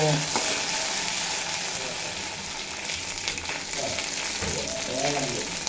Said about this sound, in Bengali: আদা আর কাঁচা লঙ্কা বাটা দিয়ে কাঁচা গন্ধ চলে যাওয়া পর্যন্ত ভেজে নেব